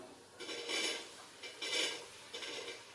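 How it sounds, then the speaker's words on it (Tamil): Chopped mushrooms with tomato sauté in a pan, stirred in three quiet, rhythmic scraping strokes of a utensil across the pan. "இப்போ இந்த காளான காயெல்லாம் வெட்டி வச்சிருக்கோம், அதெல்லாம் போட்டு வதக்கி விட்டுக்கலாம்"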